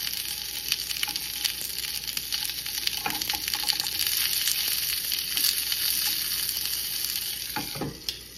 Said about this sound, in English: And my sausage is making noise.